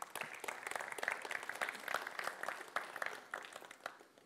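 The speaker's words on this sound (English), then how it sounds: "Let's first, again, do a bit of an applause." An audience at a think-and-drink discussion event applauds after a presentation, steady overlapping hand claps lasting the whole stretch at moderate, slightly distant volume.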